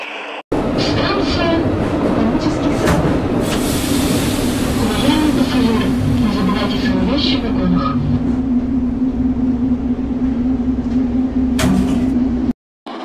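A metro train in a subway simulator game rumbles into a station with a steady loud hum and rattle, a constant motor drone lasting throughout before cutting off abruptly at the end.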